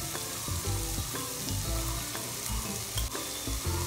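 Spices and egg gravy sizzle in a pan with a steady fry, punctuated by repeated rhythmic knocks and scrapes of a stirring spoon, clear and close with no talking.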